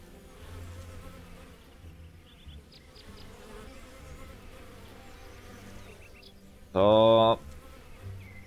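Bees in Lumberjack's Dynasty hum with a soft, steady insect buzz, close and moderately loud, with brief chirps over it and a sudden loud electronic tone near the end; someone says a single word.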